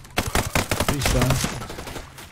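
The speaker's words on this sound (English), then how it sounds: "look at those shots coming through the trees" Rapid bursts of gunfire ring out in the video game Ghost Recon Breakpoint, a dense volley of sharp close shots with a voice briefly mixed in.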